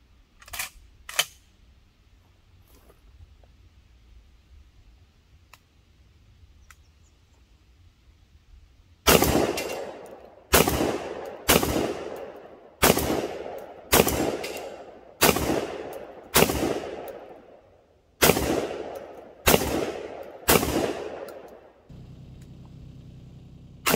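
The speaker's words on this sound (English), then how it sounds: "So that was 20 shots with the full 10 round magazine tube." A Girsan MC312 semi-automatic shotgun fires at steel plates and poppers. After two early blasts and a long pause comes a loud, evenly paced string of about ten sharp booming shots, each with a short decay.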